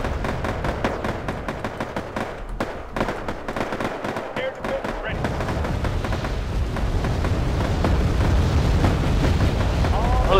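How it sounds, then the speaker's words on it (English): Missile explosions in the war game Wargame: AirLand Battle, a rapid series of sharp bursts and booms crackling in quick succession, then rolling into a denser, sustained rumble of detonations and battle noise. "That is a lot of missiles."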